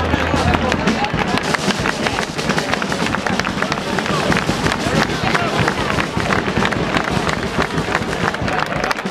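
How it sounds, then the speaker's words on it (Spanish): Loud, sustained applause from a crowd at a Spanish rowing championship award ceremony, dense steady clapping filling the whole stretch with murmured voices mixed in. "Fuerte aplauso."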